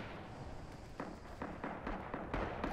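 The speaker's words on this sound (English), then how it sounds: "I'm just firing burst" Burst rifle fire in the Rising Storm video game, a series of sharp cracks in short clustered volleys at an uneven rhythm, fairly quiet over a rumbling battlefield background.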